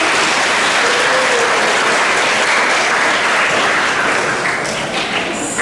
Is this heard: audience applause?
yes